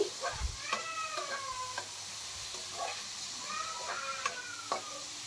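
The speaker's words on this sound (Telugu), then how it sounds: "ఈ టమాటా పచ్చిమిర్చి అయితే కొంచెం ఆయిల్లో అయితే వేగాలండి." Tomatoes and green chillies frying in a little oil make a low, steady sizzle, overlaid by several short, rising and falling meow-like calls and light stirring taps.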